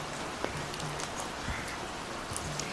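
Steady rain falls on a mountain trail near Kartik Swami Temple in Uttarakhand, an even wash of drops with a few sharper taps, no voices.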